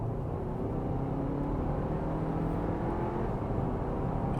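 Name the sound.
2024 Audi Q5 accelerating in dynamic mode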